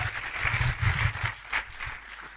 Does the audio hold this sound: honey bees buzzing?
no